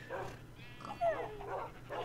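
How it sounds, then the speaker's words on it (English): Several dogs in the Minecraft video game whimper and bark in short, scattered yips, with someone talking over them. "Honestly, that's a lot of fucking dogs."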